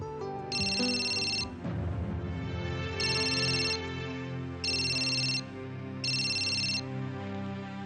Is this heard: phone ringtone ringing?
yes